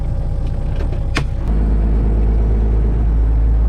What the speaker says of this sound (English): I gotta shut the truck off.